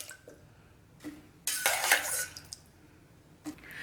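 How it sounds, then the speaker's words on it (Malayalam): Washed elephant yam pieces dropped into a cooking pot make a short clattering rush amid scattered clinks of utensils against the vessel, close and fairly quiet. "ഇത് ഞാനൊന്ന് വാഷ് ചെയ്തതിന് ശേഷമാണ് ഈ പാത്രത്തിലേക്ക് ഇട്ട് കൊടുക്കണത്"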